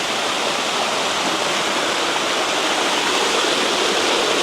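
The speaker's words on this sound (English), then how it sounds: "Climbing waterfalls." Waterfall at the end of El Questro Gorge, a steady, loud, continuous roar of falling water that fills the whole span without a break or any voices.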